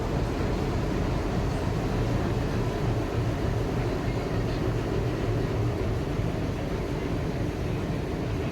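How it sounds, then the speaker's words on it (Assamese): A passenger train pulls into a station, a steady, loud broadband rumble of wheels and carriages filling the whole stretch without letup, no voices standing out. "এতিয়া আমাৰ ট্ৰেইনখনো আহি গ'ল"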